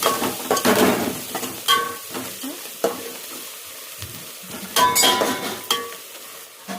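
Turmeric being stirred into chicken curry in a pan, with steady sizzling and frying broken by repeated scraping strokes and clinks of a spoon against the metal, close and fairly loud.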